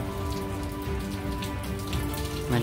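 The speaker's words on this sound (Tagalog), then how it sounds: "mas malakas na ang ulan ngayon" Steady, dense, strengthening rain drumming on a surface at Glorietta Bay, continuous and close, with a low hum beneath and no voices.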